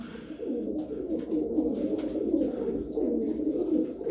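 Tumbler pigeons coo in a low, continuous rolling murmur, several birds overlapping close by with faint higher chirps.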